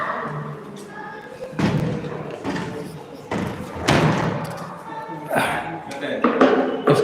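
Door or gate at a religious ritual gathering bangs with several dull thuds spread through the clip, heard beneath ongoing speech.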